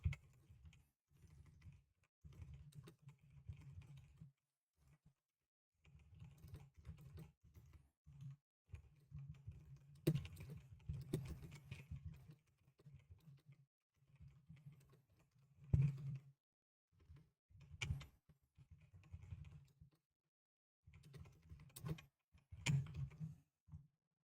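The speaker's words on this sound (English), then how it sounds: "Get some typing ASMR." Typing on a computer keyboard, close and quiet, in irregular bursts of rapid key clicks separated by short pauses, with occasional sharper single taps, over about twenty-four seconds with no talking.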